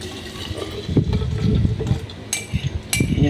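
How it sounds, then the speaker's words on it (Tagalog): Warm water poured into a container for melting a drink mix at home, a steady splashing pour that runs throughout with a few small clinks near the end, fairly close. "Nilagay ko na yung tubig."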